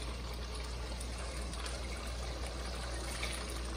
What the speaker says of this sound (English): I'm gonna put that shot of vodka in like that.